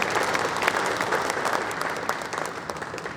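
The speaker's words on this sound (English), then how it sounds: "give yourself a round of applause" A conference crowd at DevOps Days breaks into continuous, dense clapping that stays loud and even throughout, with no voices over it.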